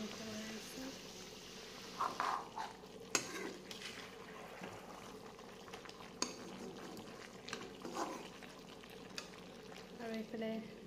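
Chicken meat cooking in a pan at home, with soft intermittent stirring scrapes and clinks of a utensil over a faint low sizzle, fairly quiet and close, with brief murmurs of voices.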